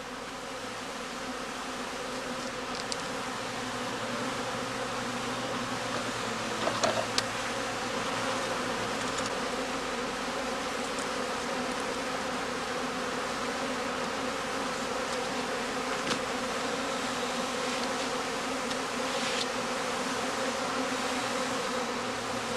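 Honey bees hum around heather skeps at an apiary, a soft, continuous buzzing drone that holds steady throughout, with occasional brief louder passes and no talking.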